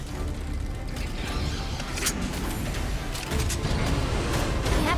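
A mechanical door in the Synduality: Echo of Ada video game grinds open with creaking, ratcheting gear noises over a dense, steady mechanical rumble, loud and sustained with a few sharp clicks.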